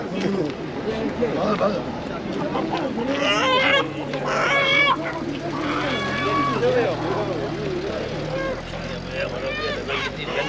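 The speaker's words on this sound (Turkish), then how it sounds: "Burası Taşköprü Tavuk Pazarı arkadaşlar." Chickens clucking and squawking at the busy Taşköprü poultry market, repeated cackles and calls amid crowd chatter, with people talking nearby throughout.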